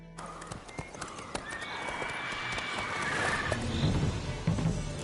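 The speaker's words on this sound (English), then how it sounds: "Whoa there, Roach." A horse in the video game The Witcher 3 neighs loudly while its hooves clip-clop steadily nearby, with several sharp hoof impacts and a long whinny over a busy game soundscape.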